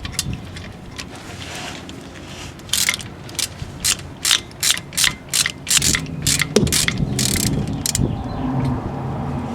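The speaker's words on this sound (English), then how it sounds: "we're gonna start with the lower bolt, and this is gonna require a 7mm hex bit socket." A ratchet with a 7mm hex bit socket loosens the lower front brake caliper bolt on a 1998 Audi A6 Quattro, giving a close run of about ten quick, evenly spaced clicks over a low mechanical background.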